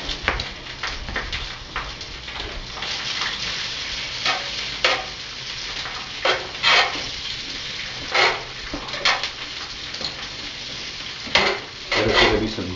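Asparagus sizzles steadily in a hot, greasy pan that still holds heat from cooking snow goose, with repeated sharp clatters of a utensil and the pan over the continuous frying.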